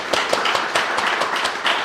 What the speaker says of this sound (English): let's give one more round of applause to our great speakers.